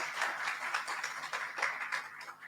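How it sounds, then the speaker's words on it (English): Conference audience at a business event in Lusaka applauding, a dense, even wash of many hands clapping continuously from start to finish, with no speech over it. "Let's give her another round of applause"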